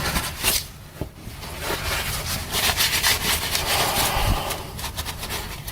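Rough rubbing and scrubbing while the transmission input speed sensor area of a 2008 Saturn Astra is cleaned with brake cleaner, continuous and close, with brief louder strokes and no talking.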